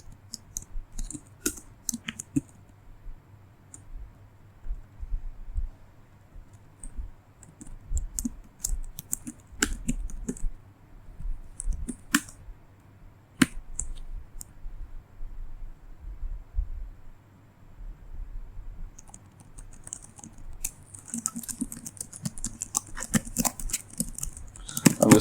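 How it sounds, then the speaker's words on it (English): Someone types on a computer keyboard at a desk, producing irregular bursts of sharp close clicks separated by quiet pauses. A denser flurry of keystrokes comes near the end, with no talking. "I'm just copying some data. I'm just like typing."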